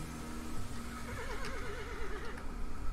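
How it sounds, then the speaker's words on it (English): Horse whinny from the game Dwarf Fortress, a single wavering, trilling neigh lasting about a second and a half that rises out of a steady background hum. "foal has grown into a horse"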